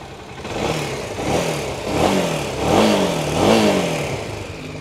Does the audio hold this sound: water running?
no